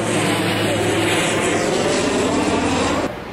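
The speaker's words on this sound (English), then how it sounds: "there's an airplane like literally right above us" Airplane passing low directly overhead, a loud close roar of engine noise that holds steady and then drops away abruptly near the end.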